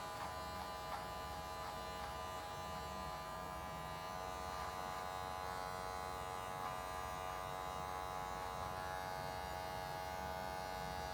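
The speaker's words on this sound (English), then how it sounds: "I'll go back in with the detailer and just take it off the lip." An electric detailer trimmer buzzes steadily and close while it trims along the lip line of a beard, a constant hum that runs without pause and with no speech over it.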